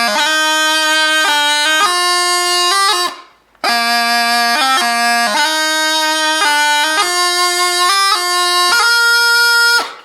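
A bagpipe plays a relaxed melody of held notes from "The Skye Boat Song" over a continuous drone, with one brief pause before the tune resumes.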